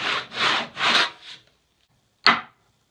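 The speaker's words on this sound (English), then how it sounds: "why don't I just get a chisel and get after it like that?" A hand chisel works the wood of a timber-frame dining table in three rough rasping strokes close up, followed after a short pause by one sharp scraping cut.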